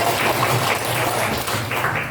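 An audience applauds at a presentation on social media communication ethics, with steady, dense clapping that fills the whole moment at a close, even level.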